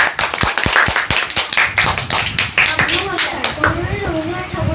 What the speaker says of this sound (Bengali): সুশান্তের জন্য একটা জোরে করতালি।